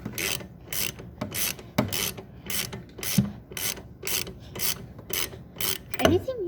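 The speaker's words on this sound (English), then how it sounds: "It's pretty scary taking the spark plug out" A ratchet wrench clicks in a steady rhythm while loosening the spark plug on a 1986 Honda Fourtrax, about a dozen evenly spaced rasping strokes, close and clear.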